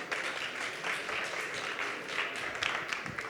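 A round of applause from the audience at a startup showcase as a company is invited on stage, fairly faint, a dense patter of clapping heard from a distance.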